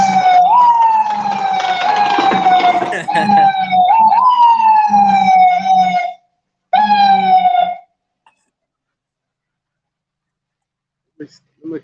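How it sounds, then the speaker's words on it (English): Emergency vehicle sirens wail loud and close, their sweeping rising-and-falling tones running for several seconds, then breaking off into near silence with a few faint thumps. "Sirens."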